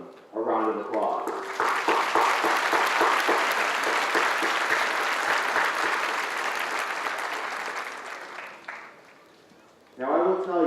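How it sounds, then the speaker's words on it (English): A graduation audience bursts into sustained, loud applause that swells, holds for several seconds, then gradually fades, with a speaker's voice heard briefly before it starts and again after it ends. "Please join me in giving all of them a round of applause."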